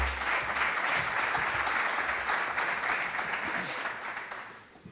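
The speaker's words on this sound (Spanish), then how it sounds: "pido un caluroso aplauso" Warm applause from an audience at a university talk on sport and social transformation, a dense, sustained clapping that holds steady for several seconds before gradually tapering off.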